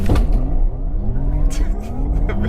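A Porsche Taycan Turbo S electric sports car accelerates hard in a launch-control start, heard from inside the cabin, a rising whine climbing in pitch over a low rumble, with brief voices partway through.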